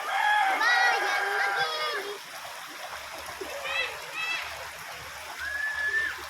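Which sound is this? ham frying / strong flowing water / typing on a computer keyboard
strong flowing water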